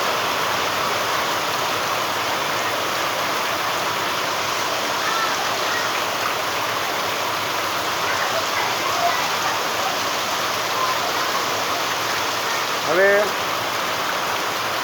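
Heavy rain pours down steadily, a dense hiss of water drumming on surfaces, unbroken throughout, with a brief faint call near the end.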